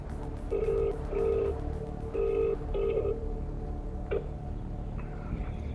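A GTA Online phone call gives off a repeating electronic ring tone in short evenly spaced bursts, followed by a single brief beep and a faint disconnect tone over steady background hum.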